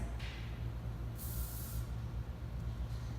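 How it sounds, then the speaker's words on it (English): Two short hissing bursts of hair lacquer spray onto the ends of hair, the second longer and louder, over a low steady background hum. "We're going to grab our sheer lacquer and spray all through the ends."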